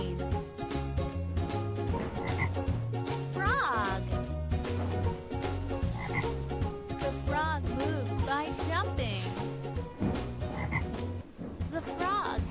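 Cartoon frog croaks from the Papumba pet animals game, repeated croaking calls mixed into a busy, loud musical backing that runs throughout.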